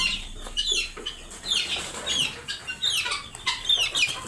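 Guineafowl hens on a farm cluck and call repeatedly in sharp, rising bursts, fairly close and loud, in an uneven rhythm without any talking.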